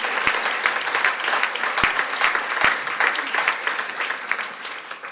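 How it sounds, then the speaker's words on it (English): Audience applause for a guest speaker at the Hermann Gmeiner Academy in Innsbruck, a steady, dense patter of many hands clapping with a few sharper nearby claps, sustained throughout with no talking. "Please, applause for him."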